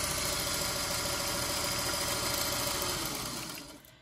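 A sewing machine runs steadily while stitching strips of quilt fabric for a 12-inch Lincoln Logs quilt block, a continuous close motor drone with fast needle clatter that slows and winds down near the end.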